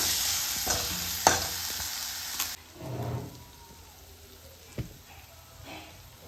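Masala paste for a paneer curry fries in oil, with close crackling sizzle, a few sharp spoon knocks and scraping stirs, loud at first and then quieter, with no one speaking.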